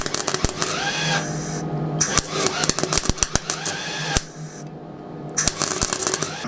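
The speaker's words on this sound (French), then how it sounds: "je vais souder au MIG plus argon" A MIG welder with argon shielding gas, with wire feeding too slowly, welds a chassis for a Peugeot 205 GTI body in loud, stuttering crackles and sharp pops, broken by short pauses.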